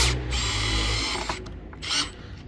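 A power drill bores a pilot hole for a screw into wood, whirring loudly and steadily for about a second before fading into brief scraping and rattling mechanical noises nearby.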